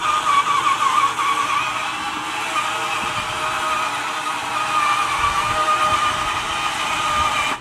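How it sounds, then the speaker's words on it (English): A Top Race TR-216 RC forklift's electric motor whines steadily with a high, slightly wavering pitch, running continuously at close range with no voices. "You still will get to hear the motor."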